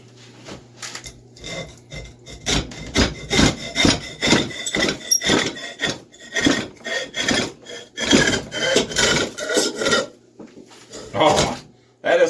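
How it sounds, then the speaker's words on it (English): A hacksaw cuts through soft, cheap wood, with repeated rasping back-and-forth strokes up close, a few clacks and knocks in between, while someone talks over parts of the cutting. "That was a hacksaw, and that just flew right through it."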